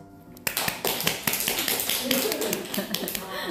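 Audience clapping during a talk at a network business group gathering comes through as sharp, irregular claps and taps, close by, with a voice speaking over part of it.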